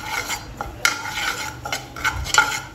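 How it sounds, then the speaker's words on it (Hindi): A metal spoon scrapes and stirs semolina dry-roasting in a pan for halwa, several close, uneven scraping strokes with light clinks against the pan and no talking. "पहले मैं थोड़ा सा रवा भून लेती हूँ"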